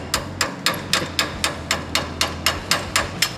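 Metallic hammer strikes ring out in a steady rhythm, about eleven evenly spaced blows, close and fairly loud, with no talking.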